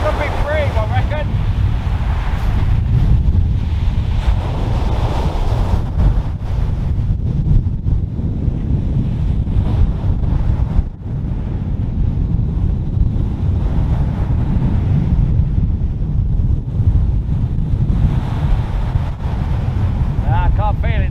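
Strong, constant wind buffeting a microphone outdoors by the water, a loud low rumble that barely lets up for the whole stretch, with a voice faintly under it.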